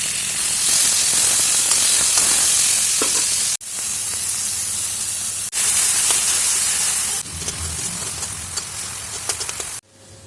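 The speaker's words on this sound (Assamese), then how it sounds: "এতিয়া মই বিলাহী দি দিছোঁ।" Chopped tomatoes sizzle loudly and steadily in hot oil in a pan while an egg dish is cooked, with a continuous hissing fry broken by a few abrupt cuts.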